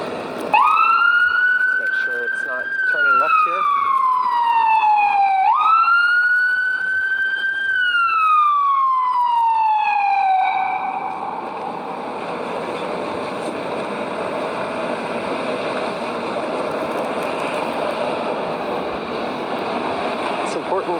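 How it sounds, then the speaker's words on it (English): A wailing emergency siren sweeps up and down repeatedly, loud and close, then gives way to a steady rush of traffic and wind. "You hear those sirens?"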